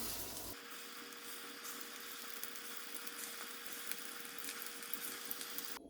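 Prawns sizzle and crackle as they fry in hot oil, a steady bright hiss with scattered pops, moderately quiet and without any talking.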